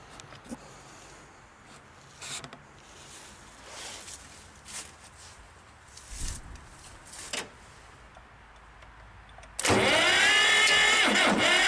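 A Belarus 250 tractor starter cranks the engine over with a loud, steady whirring grind that starts abruptly near the end, after a stretch of quiet shuffling and handling noise.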